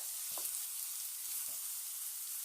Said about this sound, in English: now that the onions are cooking away